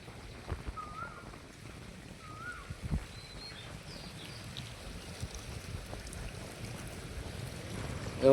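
A steady, dense rush of floodwater pouring along a swollen river after heavy rain, a constant broadband roar with faint bird chirps above it.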